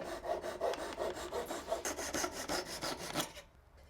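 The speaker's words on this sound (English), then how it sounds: "So now that the splines are dried, we're ready to trim them off with a pole saw." A pole saw trims dried wooden splines flush on a woodworking piece, giving a close, quiet run of quick, rhythmic back-and-forth rasping strokes that stop abruptly near the end.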